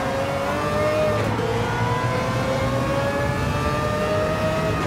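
A Mazda race car engine in the Gran Turismo 7 racing game holds a steady high rev, its tone dipping briefly before climbing again, loud and continuous with no talk over it.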